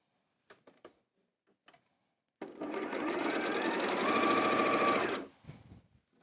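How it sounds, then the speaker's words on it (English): A domestic sewing machine runs in one steady burst of about three seconds, stitching the right sides of quilt block fabric together, pink to cream. Brief handling knocks come before and after, with no talk. "I'm now going to carry on sewing these 2 together here."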